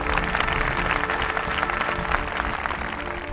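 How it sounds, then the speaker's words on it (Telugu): A church congregation at a fasting prayer gathering breaks into loud, sustained applause, dense overlapping claps filling the room evenly throughout. "గట్టిగా చప్పట్లు కొట్టండి."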